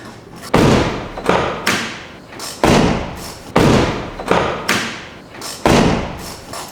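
A Raptor-lined car door is shut again and again, about eight deep, mellow thuds in a steady repeating rhythm, each one loud and close, with a short low boom that dies away between the slams.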